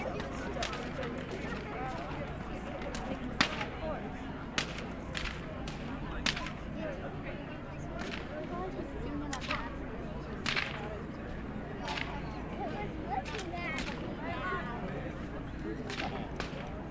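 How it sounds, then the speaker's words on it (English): A whip cracks repeatedly at a Renaissance fair, each sharp snap standing out at irregular intervals over a steady murmur of crowd ambience and nearby chatter. "Whips are cool, yeah."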